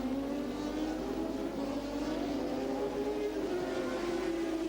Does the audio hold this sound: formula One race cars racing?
yes